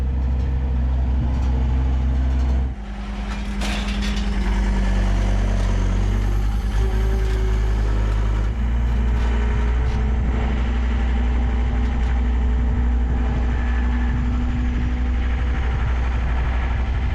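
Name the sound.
skid steer loader engine running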